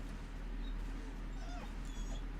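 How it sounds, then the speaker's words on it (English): A dog whimpers in thin, high, faint cries, a few brief whines that rise and fall over a constant low rumble. "All the dogs crying at me."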